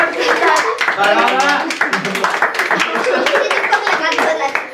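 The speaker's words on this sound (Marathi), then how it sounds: "टाळ्या टाळ्या" Many hands clap together in dense, continuous applause throughout a one-million-subscriber celebration, with voices talking and cheering over the clapping.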